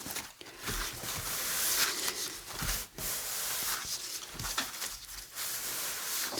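Cloth or paper wiping away excess Distress Ink during a faux aging craft, a steady rubbing swish in repeated strokes with brief pauses between, close and fairly loud.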